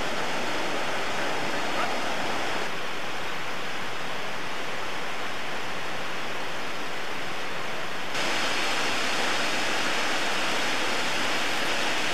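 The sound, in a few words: waterfall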